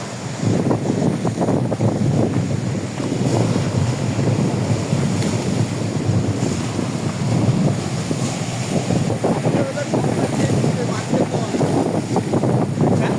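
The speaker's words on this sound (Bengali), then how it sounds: "সমুদ্রের জোয়ার ভাটা তো প্রচুর পরিমাণ ঢেউ।" Sea waves wash steadily onto a beach in Malaysia, a continuous loud roar of surf mixed with heavy wind buffeting against the microphone and no clear breaks.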